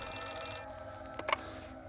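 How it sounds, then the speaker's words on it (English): A telephone rings inside the Outlast 2 horror game with a bright, trilling electronic bell that holds and then cuts off, followed by a couple of brief clicks at moderate loudness. "Is that phone in here ringing?"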